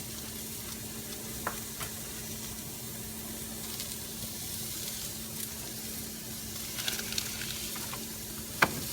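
Fresh tomatoes sizzle in a soup base of sautéed vegetables in a pot for a Portuguese kale soup, a low, even frying hiss with occasional light clinks and stirring scrapes, quiet and unaccompanied by speech.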